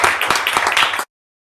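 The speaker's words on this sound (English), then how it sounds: "so please give them a round of applause" An audience at a commissioners' court meeting applauds loudly and densely for about a second, then the clapping cuts off abruptly into silence.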